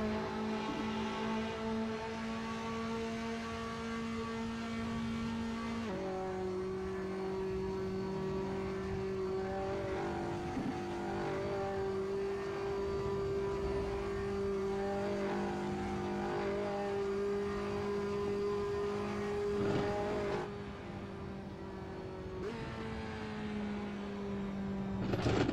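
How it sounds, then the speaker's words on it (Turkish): A racing car engine in the video game Assetto Corsa, traffic mode, drones and revs continuously, pitch shifting with each gear change, loud and steady throughout with no talking. "Ama arabanın sesi muazzam."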